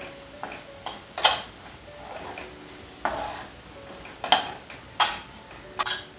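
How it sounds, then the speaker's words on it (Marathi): Soya kheema masala with turmeric and salt is stirred in a pan, a soft sizzle running under repeated scraping and clinking strokes of the spoon against the metal, several to a second. "एकाद मिनिटभर हे परतूया"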